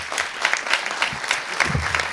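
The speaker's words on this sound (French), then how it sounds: "Julien, vous pouvez l'applaudir." Applause from a live audience at a science-communication contest for doctoral candidates, welcoming a PhD student to the stage; steady dense clapping, moderately loud throughout.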